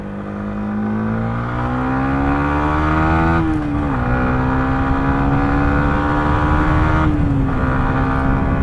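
Yamaha MT-125 motorcycle (2021) engine pulling steadily on a test ride, a loud close drone that rises in pitch, dips briefly at two upshifts around the middle and near the end, then climbs again.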